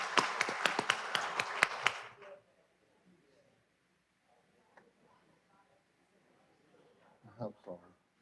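Brief burst of audience clapping at a Mobile County Commission meeting, honoring a former county commissioner; it lasts about two seconds, fades out, and leaves faint room noise with a few small sounds near the end.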